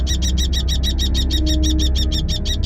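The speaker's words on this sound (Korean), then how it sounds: "황조롱이는 큰 목소리를 이용해 전세를 뒤집어 보는데요" A kestrel gives a rapid, evenly spaced series of loud, shrill calls over a steady low hum, continuing throughout.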